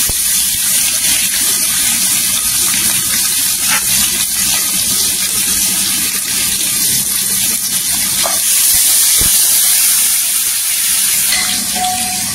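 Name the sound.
onions and curry leaves sizzling in hot oil tempering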